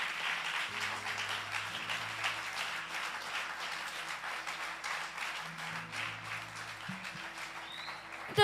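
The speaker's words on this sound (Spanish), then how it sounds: "dele un fuerte aplauso al Señor." Church congregation applauds steadily during a sermon, a soft continuous patter of many hands, with sustained keyboard tones playing underneath.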